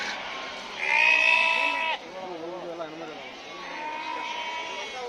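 Sheep and goats bleat loudly at the Haveri livestock market in Karnataka, one long, wavering cry followed by more calls, set against a constant crowd murmur with people talking nearby.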